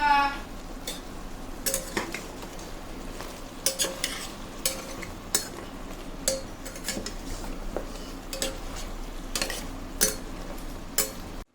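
Mutton and potato curry, made without onion or garlic, is stirred in a pot, with a spoon scraping and clinking against the metal over a soft simmering sizzle in an irregular rhythm, close and moderately loud.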